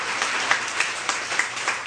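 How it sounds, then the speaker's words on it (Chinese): A brief burst of applause from a small group at a Dulan tribal song session, a light patter of uneven claps lasting under two seconds, with no one speaking. "给自己的掌声"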